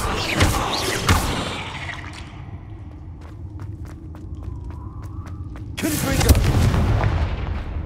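Bombarda explosion spell cast in Hogwarts Legacy: two heavy blasts at the start, a quiet stretch with sharp ticking debris, then a loud rumbling burst near the end.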